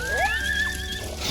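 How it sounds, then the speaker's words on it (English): In the audio game Survive the Wild, coyotes and wolves brawling let out a brief burst of rising yelps and gliding whines, close and fairly loud over a dull background. "What you're hearing right now is a bunch of coyotes and wolves fighting each other"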